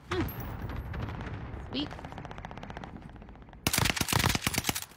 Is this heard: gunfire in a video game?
yes